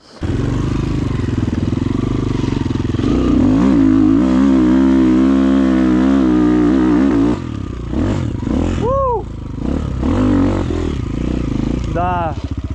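A Rottor Nemesis 250 motorcycle engine roars loud and close as it climbs a hill, holding a strained, steady drone before the revs rise and fall in short bursts, with a voice speaking over it.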